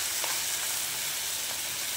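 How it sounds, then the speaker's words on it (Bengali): Cumin paste and ginger paste sizzling in hot frying oil, a steady, bright, continuous hiss close to the listener with faint crackles, heard alone without talk. "এবারে জিরে বাটা আর আদা বাটাটা দিয়ে দিচ্ছে।"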